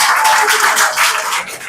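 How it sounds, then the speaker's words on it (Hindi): Dense, steady applause from a crowd of guests at the grand opening ceremony of an institute branch in Lahore, a continuous bright wash of many hands clapping together for well over a second with no talk above it. "इस वक्त आपकी भरपूर तालियों में इंस्टीट्यूट का इफ्तिताह होने जा रहा है"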